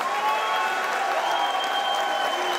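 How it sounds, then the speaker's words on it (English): A crowd at a kickboxing event applauds both fighters after the bout, with dense, steady clapping throughout and a faint crowd murmur beneath. "can we give a round of applause for both fighters after an excellent contest?"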